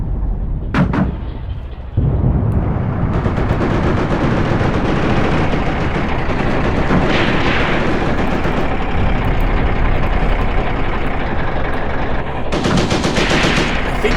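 Loud, continuous battlefield gunfire in a WW2 desert battle video game, with heavy artillery fire and rattling machine-gun bursts filling the scene from start to finish, after a brief quieter opening.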